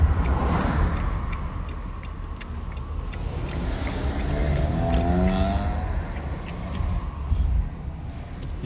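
A car engine revs up as it pulls away on a street, rising in pitch over a steady background rumble of traffic. No talking is heard.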